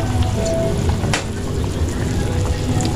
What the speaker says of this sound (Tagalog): Kumukulo na naman.